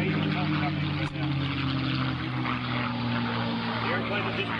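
A P-51D Mustang propeller fighter roars past at an open house air show, a loud steady engine drone filling the whole stretch, close and continuous.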